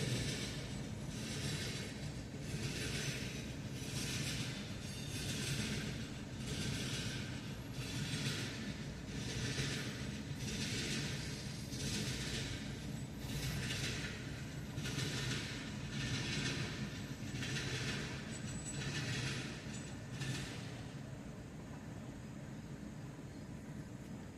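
A freight train rumbles past steadily at close range for the whole stretch, with rhythmic clickety-clack from the wheels that quickens as the train picks up speed. A low roar lies underneath, and the sound fades slightly near the end.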